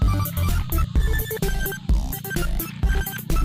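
A cellphone ringtone plays a loud, busy electronic melody with repeating tones and a steady beat, continuous and close for the whole stretch, no talk over it.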